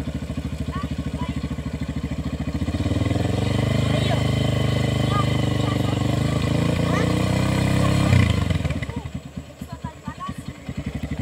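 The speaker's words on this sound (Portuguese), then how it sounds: "Tenta sair tu na moto aí pra ver." Motorcycle engine idling, then revving steadily for several seconds as a learner rider pulls away and lets the clutch out, before dropping back to a lumpy idle; people talk nearby.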